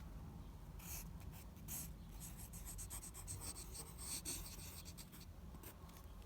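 A pen writes a word on paper in quiet, close strokes, giving soft scratchy rubbing sounds in short bursts, faint and without any voice.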